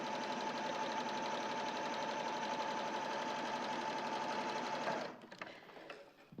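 A sewing machine runs at a fast, steady hum, stitching shoulder seams on a garment, loud and close, then stops abruptly near the end, leaving a few faint handling sounds.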